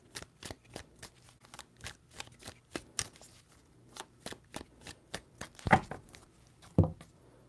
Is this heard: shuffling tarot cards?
yes